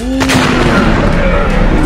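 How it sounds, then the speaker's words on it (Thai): Loud gunfire booms in a Jurassic Park dinosaur video game, with a couple of sharp shots rising out of a dense, continuous rumble of battle noise. "โดนยิงปืนไปแล้ว"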